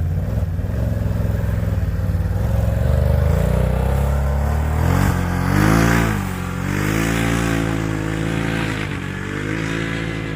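2021 Can-Am Outlander XMR ATV engine, loud and close, idling with a steady rumble and then revving up and falling back in a couple of swells, with no talking.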